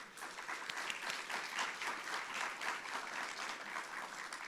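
An audience at a food access and healthy eating event in Georgia gives a steady round of applause, many hands clapping together at moderate distance without a break.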